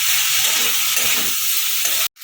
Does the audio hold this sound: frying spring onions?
yes